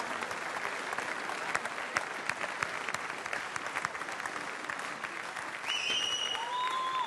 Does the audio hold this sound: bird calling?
no